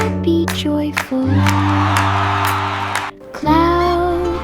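Cartoon crowd cheering in a children's nursery rhyme song, a loud burst of whoops and shouts over sustained music tones, with singing voices at the edges.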